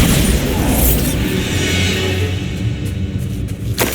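A Bombarda blasting spell explodes in the Hogwarts Legacy video game, a loud sustained booming rumble with a rushing, crackling blast that fills the whole moment.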